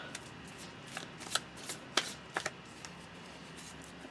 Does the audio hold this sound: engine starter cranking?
no